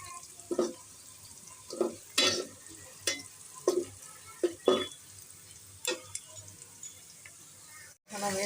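Whole cardamom, cinnamon and cloves hit hot oil with fried onions in a pot for chicken biryani, giving a series of short stirring scrapes and sizzling bursts, close and fairly quiet, with no talking.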